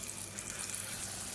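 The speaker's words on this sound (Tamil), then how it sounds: "மிக்சியை அலசிட்டு கொஞ்சமாக தண்ணி சேர்த்துக்கலாம்" Running water rinsing out a mixer-grinder jar in a kitchen while masala is being cooked, a steady close splashing flow with no pauses and no talk.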